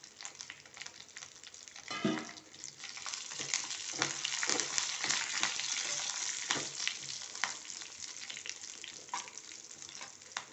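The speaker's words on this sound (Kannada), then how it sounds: "ಈ ಬೆಳ್ಳುಳ್ಳಿ ಆಯಿಲಲ್ಲಿ ಚೆನ್ನಾಗಿ ಫ್ರೈ ಮಾಡಿ ಹಾಕಿದರೆ ಚೆನ್ನಾಗಿರ್ತದೆ" Crushed garlic with curry leaves and a pinch of asafoetida sizzles steadily in hot oil for a Mangalore cucumber and jackfruit-seed sambar, a loud, continuous close-up crackle with occasional sharper pops and stirring scrapes.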